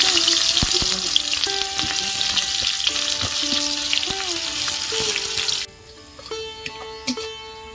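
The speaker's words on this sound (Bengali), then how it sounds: "একটা পেঁয়াজ আমি কুচি করে নিয়েছি, এটা আমি ভেজে নেব।" Chopped onion fries in oil left from frying eggs, a loud bright sizzle with stirring taps over faint musical tones, the sizzle dropping away sharply near the end.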